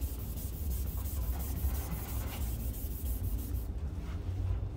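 A Tolecut sanding block rubs back and forth over a surface in steady, close passes, a continuous dry scuffing texture at even loudness with no voices.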